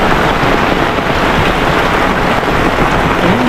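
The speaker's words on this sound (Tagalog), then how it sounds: "Umuulan." Heavy rain pours in a dense, constant hiss and patter, steady and loud throughout with no voices.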